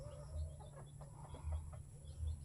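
Chickens and chicks in a coop cluck softly with low, throaty repeated calls and faint chirps, fairly distant and quiet over a steady hum.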